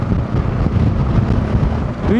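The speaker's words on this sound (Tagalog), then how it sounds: "Oy, ang lakas ng hangin." Strong wind buffets the microphone in a loud, continuous roar with gusting swells, on a foggy hilltop ride during a typhoon, and an engine tone rises briefly at the end.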